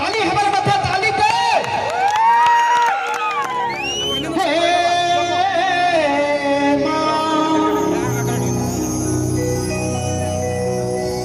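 A crowd at a Ganesh Puja melody stage show in Bisipada cheers and shouts loudly and steadily over music, with voices and children whooping throughout.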